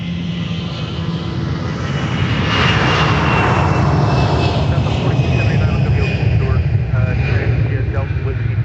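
Delta Airbus A320 roaring down the runway on its takeoff roll at MSP airport, a loud, steady, building jet engine rumble that fills the whole clip, with voices faintly present under it.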